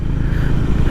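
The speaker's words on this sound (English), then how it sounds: "raspier sounding exhaust in the 350cc segment" A Honda CB350RS 350cc motorcycle's exhaust gives a loud, raspy, steady rumble heard up close, one short continuous burst without talk.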